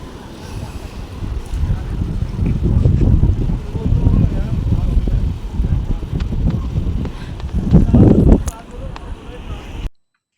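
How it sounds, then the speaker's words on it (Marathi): A calm river flowing at the Sangam confluence near Leh, a broad steady rush of water heavily mixed with low wind buffeting on the microphone, swelling near the end before cutting off. "इथे नुसता आवाज येतोय पाण्याचा"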